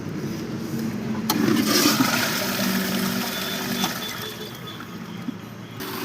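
Water gushes and splashes steadily under a continuous hum from a single-phase 1.5 HP V4 pump drawing eight amps, a loud rushing flow that eases off slightly toward the end.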